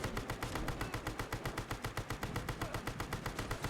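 The Vulkan-M Redux gun fires in Fallout 4 as a rapid, even stream of loud automatic shots, roughly seven per second, steady and unbroken, with no talk over it.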